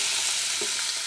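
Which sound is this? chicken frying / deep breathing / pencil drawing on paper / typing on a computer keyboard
chicken frying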